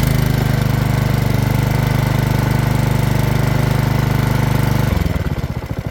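A Honda HRX217 or Masport Rotarola push lawn mower runs at a loud, steady high idle up close, then drops into a slower, lower chugging idle near the end.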